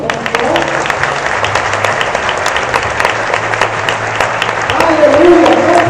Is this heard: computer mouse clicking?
no